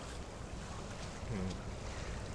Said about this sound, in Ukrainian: Вітер посилюється, хвиля погано видно.